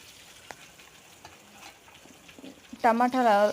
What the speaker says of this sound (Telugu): అదే కడాయిలో టమాటాలు వేసి టమాటాలని బాగా మగ్గనివ్వాలండి